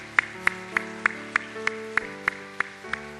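Regular single hand-claps ring out at an even beat during a church gift presentation, each crisp and distinct, set over a sustained musical backing of held organ- or keyboard-like tones.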